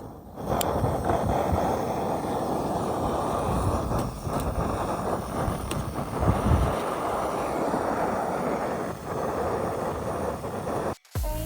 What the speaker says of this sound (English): So let's light the jet boil and see how it does.